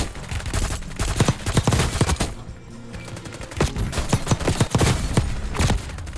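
Rapid gunfire in a Call of Duty match, a dense series of sharp repeated shots in quick bursts with a brief lull midway, loud and close with no talk.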